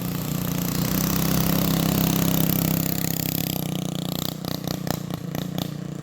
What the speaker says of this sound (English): Not bad for a little mini bike. 5-horse, torque converter, straight exhaust, and a Mikuni.